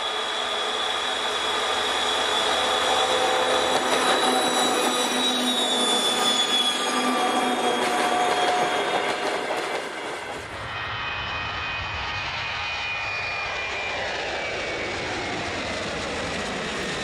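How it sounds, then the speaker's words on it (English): A Soviet 2TE116 diesel locomotive engine running at high revs, a loud sustained roar with a whining, jet-like tone close by; the pitch and intensity shift partway through, then it continues steadily to the end. "its signature engine noise at high revs, resembling that of a Boeing airliner at takeoff. Just listen."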